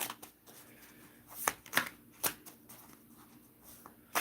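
A deck of cards is shuffled close up, with quick riffling and snapping bursts at an uneven rhythm over quiet background.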